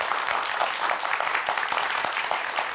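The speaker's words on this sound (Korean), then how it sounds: "큰 박수 주세요." A studio audience gives a short burst of applause to welcome a professor onto a talk programme, a thick, continuous patter of many hands at even loudness.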